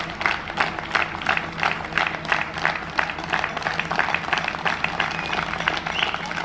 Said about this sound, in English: That was the first clap I've experienced